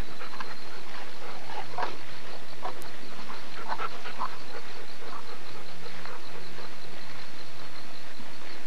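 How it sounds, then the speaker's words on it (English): A dog pants and lets out soft whimpers amid some outdoor bird-like chirps, close and fairly quiet, with no one speaking. "I'll show you the dog real quick."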